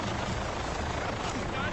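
Helicopter rotor blades whirring in an action film scene, a dense, loud, continuous chopping roar filling the whole stretch, with voices mixed in underneath.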